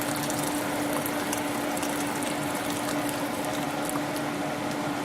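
Steady rushing, gurgling sound of hot water poured from a kettle into a pot, about seven cups, continuous and fairly loud, with faint clinks over a broad hiss and a low hum underneath.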